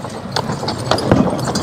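Hooves of Suffolk Punch draft horses clop unevenly on the ground while they pull a sled, close and moderately loud, with irregular footfalls.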